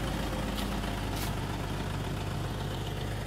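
A Honda Brio with 33,000 km on it idles steadily, a constant low engine drone alone with no voices and a faint hiss throughout.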